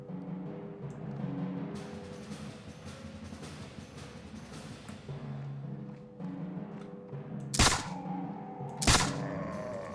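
Two loud gunshots from a double-barrel gun in the video game Mount & Blade: With Fire and Sword, fired around eight and nine seconds, standing out sharply over steady game ambience and background clatter.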